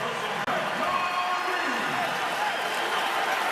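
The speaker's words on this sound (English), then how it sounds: "Crowd appreciating that effort, helping the Warriors build the 8-point lead." Arena crowd at an NBA Finals Game 5 between the Celtics and Warriors, applauding and cheering in a steady, dense wash of noise beneath a commentator's voice.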